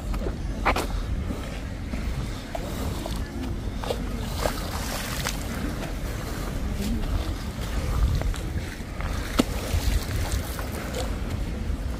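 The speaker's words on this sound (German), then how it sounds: "Ist der Wind." Wind blows steadily across the open Lake Constance shoreline at the Bregenz promenade, Austria, during high water, with water lapping softly and scattered light knocks and rustles throughout.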